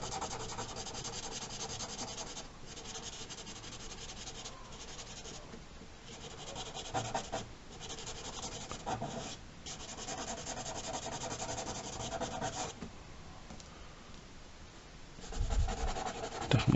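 Continuous scratchy rubbing of coloured pencil strokes on paper, shading back and forth in close, quiet bursts with brief pauses.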